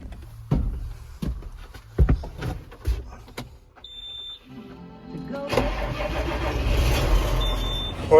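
A tractor engine cranking and catching after a few clicks and thumps, then settling into a low rumbling idle close by.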